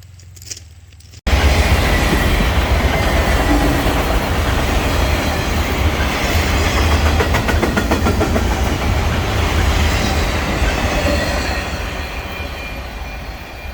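Train passing on a railroad track, starting abruptly after a moment of quiet and then a loud, close, continuous rumble with rhythmic clickety-clack of wheels and brief squeals, fading slightly at the end.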